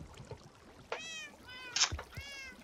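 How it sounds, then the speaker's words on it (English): Several video game cats meow in short, close bursts at a farm base, a few mews spaced across a quiet background. "I don't know if you can probably hear them. I got kitty cats."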